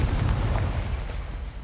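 Incendio fire spell cast in the video game Hogwarts Legacy, a short loud whooshing burst of flame with a deep rumbling boom that fades quickly.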